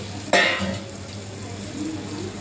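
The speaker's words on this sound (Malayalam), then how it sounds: "ഇനി നമുക്കിതിലേക്ക് പുളി ചേർത്ത് കൊടുക്കാം." Bilimbi (irumban puli) drops into a pan of pickle mix and bursts into a sudden loud sizzle, then settles into a steady frying hiss.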